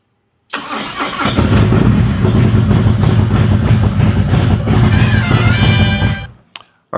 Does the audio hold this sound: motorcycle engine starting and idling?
yes